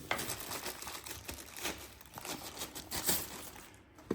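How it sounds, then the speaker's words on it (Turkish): A plastic bag crinkles and rustles up close as the cover for a Roborock robot vacuum's charging station is unwrapped, with irregular crackling bursts throughout. "Poşetinden çıkartıyorum."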